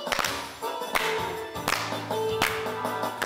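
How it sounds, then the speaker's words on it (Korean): Children clap in a rhythmic beat, a few sharp hand strikes spaced about every three-quarters of a second, mixed in with bright sustained musical tones. "애들 박수 박수 박수"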